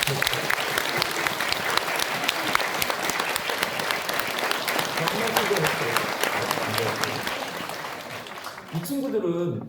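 Church congregation applauding children from the kindergarten, youth and Sunday school departments at a special dawn prayer service, sustained dense clapping for about nine seconds that cuts off near the end as a voice begins.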